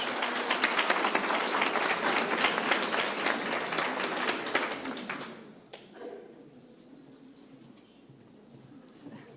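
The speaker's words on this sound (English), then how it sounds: "let's give the speakers today another round of applause, and thank you all very much" A conference audience applauds the speakers at a meditation conference in Bhutan. The clapping is loud and sustained for about five seconds, then fades to a quiet room with a few scattered claps.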